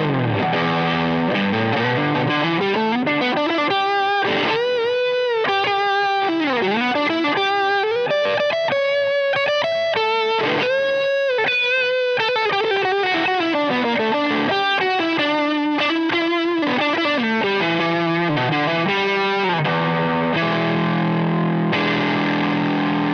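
Distorted electric guitar solo through a white boost pedal, continuous melodic lead lines with bends and vibrato over a thick overdriven tone, loud and alone with no talking.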